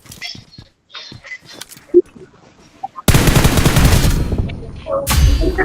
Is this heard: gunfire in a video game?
yes